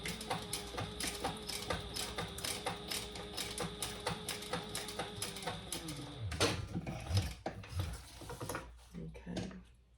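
A sewing machine runs in a rapid, even burst of stitching along a row on a backpack, then stops; a few handling clicks and rustles follow at close range.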